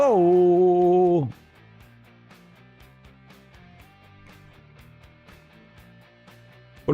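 A clean electric guitar plays surf-style notes through a Fuse Audio Labs VREV 63 reverb plugin: a loud ringing chord decays abruptly, then quieter single notes and chords follow with a lingering reverb tail, and no one talks over it.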